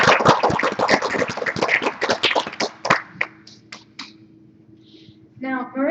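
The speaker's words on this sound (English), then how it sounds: "If we can have another round of applause." Audience applause at a secular summit conference, a dense burst of clapping for about three seconds that thins into scattered claps and fades to near silence before a voice starts up at the end.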